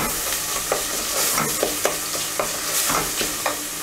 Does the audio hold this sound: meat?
yes